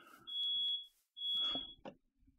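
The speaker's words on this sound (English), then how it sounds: "Fire alarm went off. Cause my mom's cooking" Indoors, a smoke alarm set off by home cooking gives two long, piercing high beeps separated by a short gap, followed by faint clattering noises.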